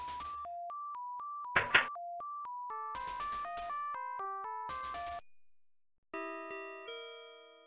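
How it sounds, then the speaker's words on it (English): A synthesized doorbell in the Dark Seed video game plays a sequence of bright electronic chime tones, a ding-dong melody repeating clearly and alone, then ending with a few sustained tones. "Oh, is that the doorbell?"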